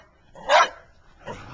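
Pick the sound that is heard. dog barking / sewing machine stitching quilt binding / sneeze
dog barking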